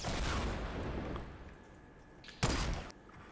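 Gunfire from the Fortnite Battle Royale video game bursts out in a loud opening flurry, then a sharp second burst follows after a short lull.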